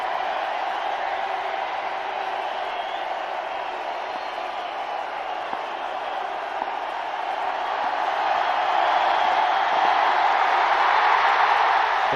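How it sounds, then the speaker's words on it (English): A cricket crowd at a Test match between India and Pakistan in Mohali roars after India take a wicket, a distant, sustained wash of cheering that swells louder near the end. "it's an animated crowd now that India have picked up a wicket"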